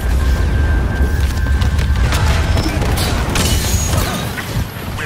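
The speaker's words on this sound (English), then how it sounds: "Grenade out!" A grenade explosion in Star Wars Battlefront 2 on Ajan Kloss, a loud, deep rumbling boom that sustains for several seconds amid battle noise, then slowly eases off.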